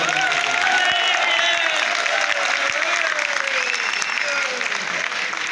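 An audience claps steadily and loudly in dense, continuous applause, with a voice faintly audible underneath.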